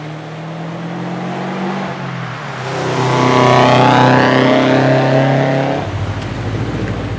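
An RC car engine whines and builds to a higher, louder pitch midway before dropping off, with a steady mechanical drone underneath.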